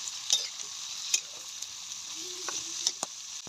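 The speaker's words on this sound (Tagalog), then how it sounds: "Ilagay ko na rin tong patola mga guys. Ganito po ako maggisa." Sponge gourd (patola) sautéing in a hot pan, a steady close sizzle and crackle with a few sharper spatters and soft stirring scrapes throughout.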